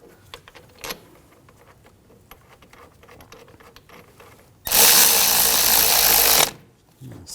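A power tool snugs bolts on the rear wheel hub bearing module of a 2006–2009 Audi S4. After quiet handling clicks and clatter, a loud close burst of whirring tool noise lasts about two seconds, then stops abruptly.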